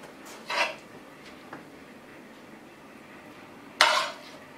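Two spoonfuls of corned beef and potato pie filling scraped and dropped into a pastry case, each a short soft clatter of spoon against dish, the second louder, with quiet pauses between.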